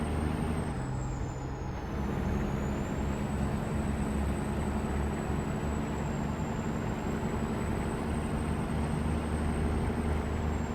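In-game truck from American Truck Simulator with a 625-horsepower engine, idling steadily with a low, even rumble throughout, plus a faint high whine drifting above it and no speech.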